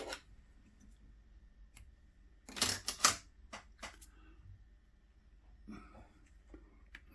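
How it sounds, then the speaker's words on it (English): Scissors snip the white ends off peacock herl at a fly-tying bench, two close, crisp cuts landing a moment apart among a few soft clicks and quiet handling noises. "Trim off the white ends."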